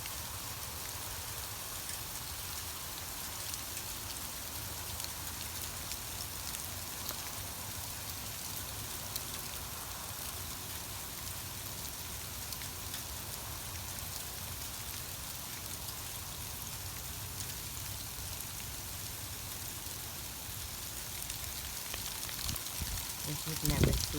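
Hail falling in early April in Canada, bouncing off the ground as a steady, even patter of pelting ice, fairly quiet and continuous throughout with no voices.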